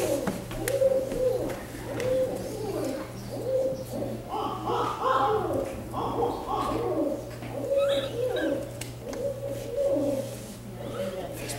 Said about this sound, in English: this is much more your typical hooting owl that you would expect an owl to sound like